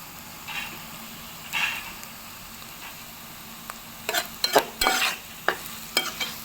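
Curry leaves hit a pan of frying bitter gourd, giving a low steady sizzle broken by several sharp crackles and spatula scrapes clustered toward the end, close and moderately loud with no talking.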